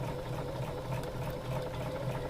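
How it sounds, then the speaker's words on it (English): A sewing machine stitches a narrow fabric strip fed along the edge of the presser foot, making a steady, close mechanical whir with a rapid even rhythm throughout and no talking. "start sewing with my fabric right at the edge of this presser foot"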